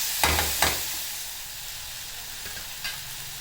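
Chopped onions frying in a pan for a breakfast dosa dish, a steady quiet sizzle with a few sharp scrapes of stirring near the start and one later, no talking.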